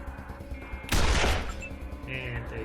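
A single sniper rifle shot that misses in the video game Wasteland 2, a sharp loud burst rising over low game music and fading with a short rumbling tail.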